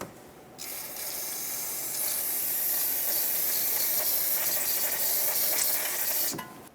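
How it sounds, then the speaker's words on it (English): Brake parts cleaner sprays from an aerosol can onto a brake hose on a 2008-2012 Honda Accord, one loud, close, continuous hiss lasting about six seconds before it stops abruptly. "Get that nice and snug and clean it down with brake parts cleaner."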